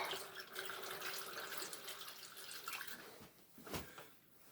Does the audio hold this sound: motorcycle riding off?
no